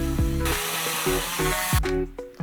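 Power drill pre-drilling screw holes in a guitar body before a pickguard plate is fitted: a steady whirring motor whine with several short pitch dips and bursts as the bit bites, close and fairly loud, no talking.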